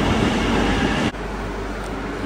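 A Barcelona metro train heard from inside the carriage, a loud, steady low rumble and hum with a sudden drop in level partway through as the running sound shifts.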